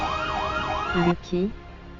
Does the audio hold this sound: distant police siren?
yes